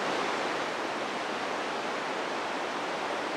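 Mesa Falls in Idaho roars as a steady, dense wash of falling water, loud and unbroken throughout with no voices.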